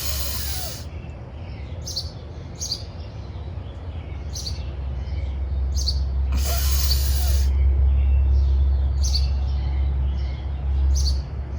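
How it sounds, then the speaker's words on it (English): Short, sharp bird chirps repeat over a steady low rumble, scattered through the clip, with a couple of broader bursts of rustling noise. "Love the sound of the birds chirping there."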